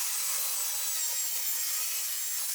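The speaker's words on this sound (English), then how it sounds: "we're going to want to start by cutting this plywood board directly in half, so we're left with 2 4-foot square sections" Saw cutting a sheet of plywood in half, a steady, close rasping hiss of the blade through wood that runs unbroken throughout with no pauses and no voices.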